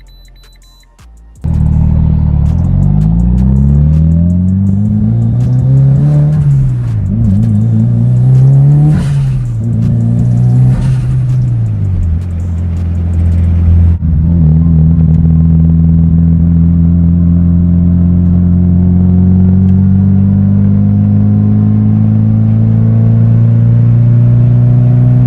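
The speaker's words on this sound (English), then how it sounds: "I'm just gonna drive the car just to make sure that we're all good to go." A Mitsubishi Evo 8, freshly fitted with a new fuel pump housing, fires up and drives off loudly, its engine revving up and down through several gear pulls before settling into a steady, droning cruise.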